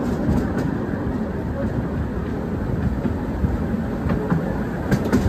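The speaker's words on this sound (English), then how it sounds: "we're going to get a really good view of another train coming up, the one going the other direction" Ruislip Lido narrow gauge railway train on single track rumbling steadily past at close range, a continuous low rolling clatter with faint wheel clicks throughout.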